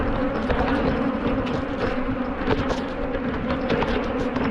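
Angry honey bees swarm around an opened hive full of larvae and eggs, a dense, continuous loud buzzing from many insects close to the microphone.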